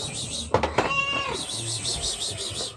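A pet cat meows at feeding time, a few short, close cries mixed with other household noises.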